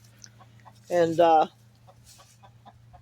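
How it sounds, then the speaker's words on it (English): Chickens cluck outdoors on a morning farmyard, one short close burst of calls standing out over a quiet background hum, with a person speaking briefly. "chickens are out here giving me a talking to this morning."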